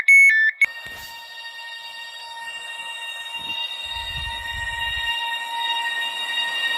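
An SCR train stopping at Airport Terminal 1 station: a short burst of high electronic beeps, then a sustained tonal electric whine with a brief low rumble partway through, fairly loud and continuous.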